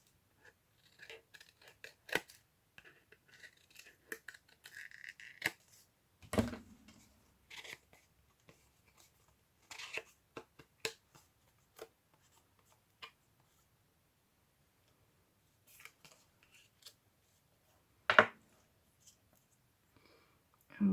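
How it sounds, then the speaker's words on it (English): Scissors snip through decorative paper for a papercraft page, giving scattered crisp clicks and short cutting strokes, close and quiet, with pauses between cuts. "And I also want to just cut this in a little bit more."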